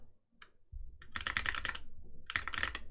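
Computer keyboard typing during setup of a WordPress deployment on AWS: bursts of quick, close key clicks in two clusters with a short pause between, fairly loud and with no talking.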